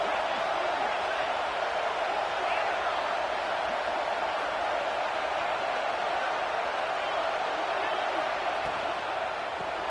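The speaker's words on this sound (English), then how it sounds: "This crowd bringing the energy and noise early." Steady, dense roar of a stadium crowd in the College Football 26 video game during an Oregon vs Indiana matchup, a continuous wash of cheering noise that holds at an even level throughout.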